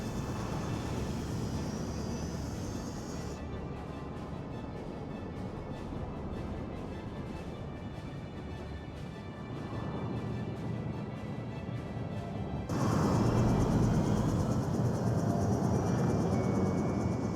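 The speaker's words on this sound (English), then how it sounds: "That's the sound of turbulence." Loud, continuous rumbling roar of aircraft turbulence in a video game, with a rattling, shuddering texture, surging louder near the end; no voices.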